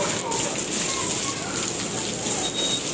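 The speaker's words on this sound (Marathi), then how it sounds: "आता आम्ही निघालो बाहेर बघा पाऊस" Constant hissing patter of rain falling, loud and steady, with faint background murmurs.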